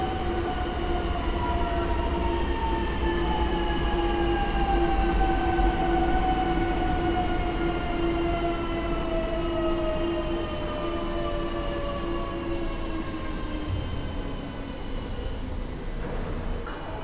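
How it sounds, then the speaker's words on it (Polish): A Koleje Mazowieckie airport train made up of two electric units runs from Modlin toward Warsaw Chopin Airport through Warszawa Zachodnia station, giving a steady loud rumble with falling whining motor tones for the whole stretch. "Pociąg lotniskowy kolei mazowieckich z Modlina do stacji Warszawa Lotnisko Chopina"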